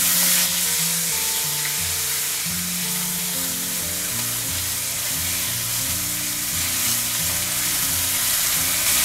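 Ginger and green chili paste sizzles steadily in hot oil with curry leaves and popped mustard seeds in a pan, with continuous frying hiss and low scraping of a spoon mixing it in, close and fairly loud throughout.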